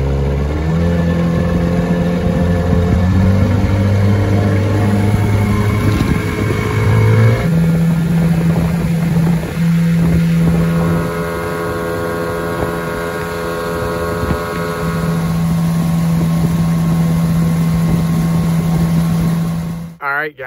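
An older outboard engine on a small free boat used on duck marshes, starting and then running with a steady droning hum that shifts pitch as it revs, loud and close, with some wind noise.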